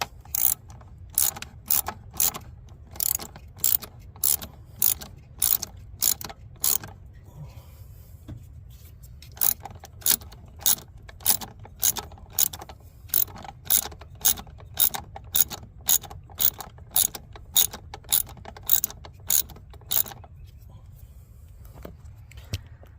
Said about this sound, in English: I'll loosen the 2 bottom ones.